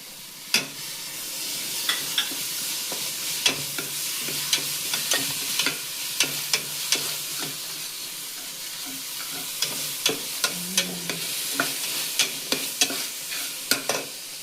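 Continuous sizzling and frying of a kilo of chicken in a pan for biryani with repeated scraping, stirring clicks scattered throughout, steady and close, no voices.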